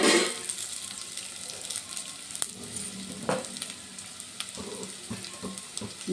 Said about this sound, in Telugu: ఇందులోనే ఆనియన్స్, పచ్చిమిర్చి వేసి అవి బాగా రెడ్డిష్ కలర్ వచ్చిన తర్వాత క్యారెట్ అది వేసుకోవాలండి